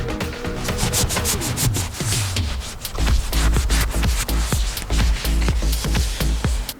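Close, gritty rubbing and scraping of a dirty rag against a BMW E30's wheels, repeated in quick irregular strokes, loud and continuous without speech.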